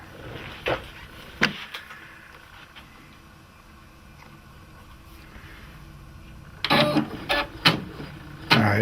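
A Brother PE770 embroidery machine's carriage shifts with a few sharp mechanical clicks and clatters, then a faint hum, then a quick burst of stepping and knocking near the end, close by and fairly quiet.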